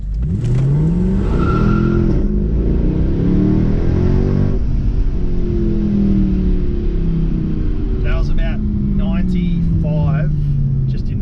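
A 500hp sports car launches hard from a standstill, its engine revving and climbing through rising, falling tones as it accelerates, loud and close from inside the cabin, with a voice speaking over the engine later on.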